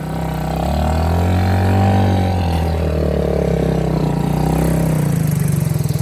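A Chinese ATV with a lift kit rumbles loudly close by, its engine holding a strong steady drone that rises and falls slightly as it revs, with a choppy low putter near the end.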